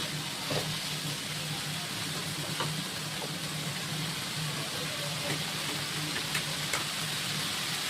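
Fresh leafy greens (saag) fry in a pan with a steady, even hiss and sizzle, alone and continuous, with faint clicks scattered over it.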